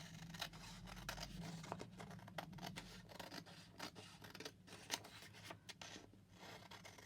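Scissors snip around an image cut from an old commercial typewriting book, a steady run of close, dry crisp cuts and paper rustles with no talking.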